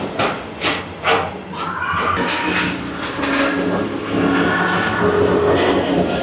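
A Disney World People Mover ride vehicle glides along its track with a steady rolling rumble, joined by a few sharp clicks and knocks early on and faint ride announcements or music in the background.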